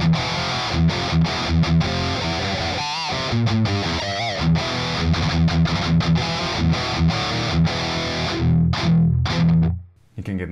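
An electric guitar plays through a Bogner amp model in the STL Tonality Howard Benson plugin, giving a loud, distorted, chunky modern tone with rhythmic chugging chords that ring out and fade at the end.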